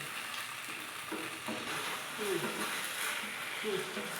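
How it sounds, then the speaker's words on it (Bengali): Cornflour-marinated chicken pieces for chili chicken fry in a pan with a steady, close sizzle, with occasional stirring and a faint voice in the background. "এটাকে ভাজতে দেব।"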